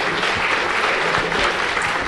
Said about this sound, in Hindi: तालियां बजाइए इसके।